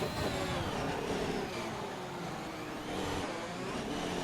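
Formula 1 race cars roar steadily around Monza in a racing video game, a dense, continuous engine drone with no breaks, heard at moderate level without anyone talking.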